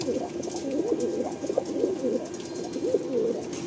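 Pigeons at a Kolkata pigeon sale coo softly and repeatedly in a rolling, burbling rhythm, close by and alone.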